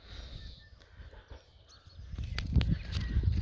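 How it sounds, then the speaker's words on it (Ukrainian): Outdoor birds calling during a morning walk, with a few crow-like caws and chirps at moderate distance over rustling ground noise that grows louder toward the end. "Включилась, щоб ви послухали, як співають наші пташки."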